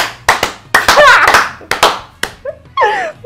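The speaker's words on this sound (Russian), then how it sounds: "аплодисменты, пожалуйста, самые громкие" Sparse hand clapping from a person or two indoors, a few sharp claps in bursts with pauses, interleaved with squealing, excited vocal sounds.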